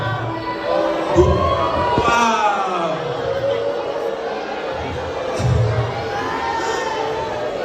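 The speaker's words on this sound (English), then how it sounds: "You're booing Aaron Center." School audience at a keynote speech in a crowded hall responds with a sustained mix of booing, shouting and jeering from many voices, with children's voices prominent, loud and continuous, while one voice speaks briefly.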